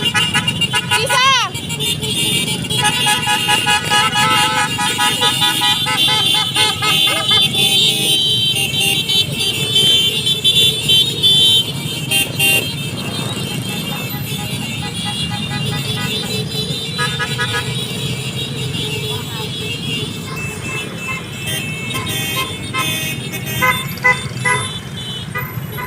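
Car and bus horns toot repeatedly from a passing BBM political campaign caravan on Bypass Road in Asingkan, steady traffic noise throughout with people talking and calling out nearby.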